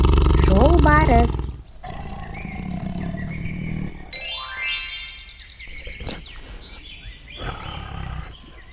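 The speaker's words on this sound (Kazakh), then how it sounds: "Жолбарыс." Tiger roaring in short bursts among other animal and bird calls, with voices and chirps scattered across the sound.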